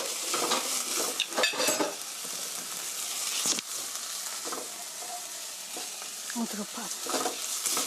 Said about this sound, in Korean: 청주 한 큰술 넣어주시고요. 이렇게 저어주세요.